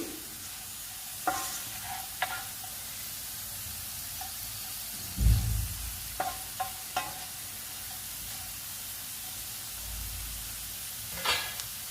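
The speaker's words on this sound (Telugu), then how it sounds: "బాగా ఫ్రై అయిందండి, అలా ఫ్రై అవ్వాలి. ఇలా ఫ్రై అయితేనే బాగుంటుందండి బీట్రూట్ కర్రీ." Beetroot curry frying in a pan makes a soft, even sizzle broken by several sharp spatula scrapes and taps, one heavier knock midway, close and without speech.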